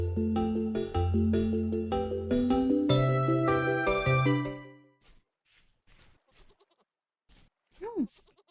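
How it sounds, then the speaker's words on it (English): A baby goat in the game Vintage Story gives a single short bleat near the end, after a run of plucked melodic notes fades and a few soft footsteps tap. "Where is the baby goat?"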